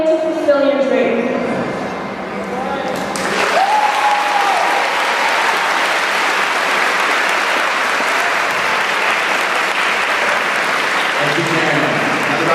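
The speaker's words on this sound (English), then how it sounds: "Another round of applause for Karen" Audience applause at an Urbana Middle School promotion ceremony for student speaker Karen, starting after a voice and then swelling into sustained, dense clapping from a large crowd that carries steadily to the end.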